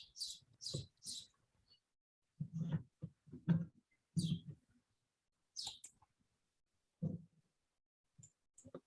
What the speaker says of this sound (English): Are those your birds or are those out? Is that outside?